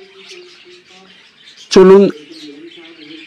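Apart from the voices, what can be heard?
finches chirping at a bird farm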